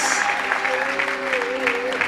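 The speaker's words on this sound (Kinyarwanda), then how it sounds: "Let's give the Lord a big hand clap as she" A church congregation gives sustained applause during a service with a bishop, dense clapping running continuously under a voice and a faint tonal hum.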